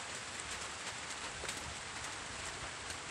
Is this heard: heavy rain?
yes